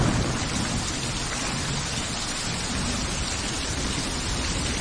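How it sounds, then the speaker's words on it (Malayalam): Heavy rain pours steadily and loudly with deep rumbling thunder beneath, a dense continuous roar with no pauses throughout. "അതിവിടെ നല്ല മഴ, ഒന്നും കേൾക്കുന്നില്ല"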